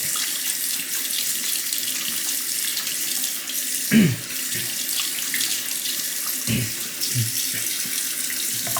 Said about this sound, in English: thoroughly rinse the 5K